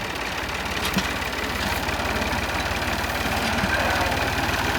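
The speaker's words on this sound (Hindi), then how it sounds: "हमारा ट्रैक्टर जो है वो ज़रा मरीज है, इसलिए बड़ी एहतियात के साथ जो है इसको इस्तेमाल करना पड़ता है।" A tractor in poor condition runs steadily at a field, its engine chugging in a fast, even knock at close range, with faint voices in the background.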